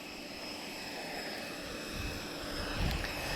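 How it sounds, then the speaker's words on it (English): An autogyro with an open cockpit flies a low display pass at a Portugal airshow, its steady propeller drone and engine hum swelling slightly as it draws nearer. "Auto gyro still displaying"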